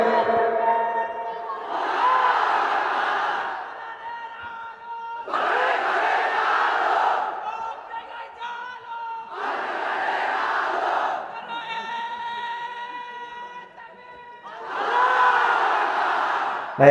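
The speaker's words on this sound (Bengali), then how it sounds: "আমার সময় তাকবীর দেন সবাই" Crowd at a Bangla Islamic waz sermon gathering shouting takbir in unison, four loud chanted bursts spaced a few seconds apart, each a sustained massed roar of voices with brief lulls between.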